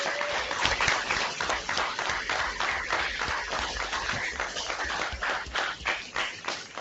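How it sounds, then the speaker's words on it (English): Applause comes through a video call from schools welcoming a Pro Football Hall of Famer. The clapping is thin and band-limited, with a dense, uneven patter of hand claps throughout. "join me in giving a warm round of applause to Pro Football Hall of Famer, Mr. Rod Woodson."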